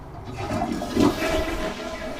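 A high-tech Japanese toilet in a bathroom flushes once with a loud, close rush and swirl of water that peaks midway and settles into a steady drain.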